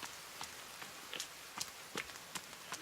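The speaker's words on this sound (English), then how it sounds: "Ooh, and it's raining." Rain falls in The Forest video game as soft, steady patter with scattered sharper drops and light taps, heard faintly and without talk.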